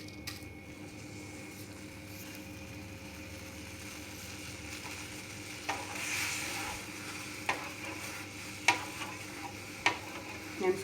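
Jaggery syrup cooking in a pan while being stirred, giving soft steady sizzling and stirring with a few sharp clicks of the spoon against the pan toward the end, fairly faint and with no talk.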